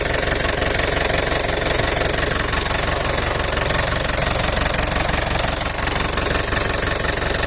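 An Isuzu 4BC2 diesel engine runs steadily nearby on a test, with a dense, rapid knocking clatter and constant vibration, loud and unbroken throughout.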